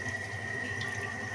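A little water is poured into a pan of egg posto curry, a faint, steady trickling and sizzling heard alone for a moment.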